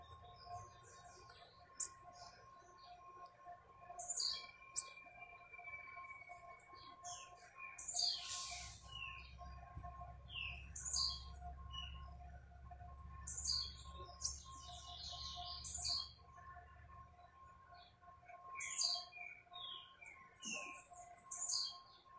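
A young tiziu, or blue-black grassquit, sings in repeated short, bright chirping phrases spaced a couple of seconds apart, close and clear over a quiet hum and a soft low rumble in the middle stretch.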